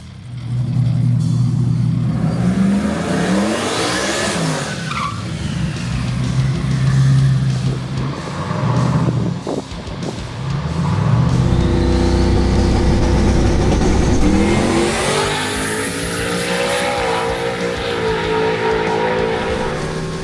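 Chevrolet C10 race trucks accelerate hard down a drag strip, their engines rising through gears in loud, climbing sweeps, one pass followed by another closer and louder roar that holds to the end.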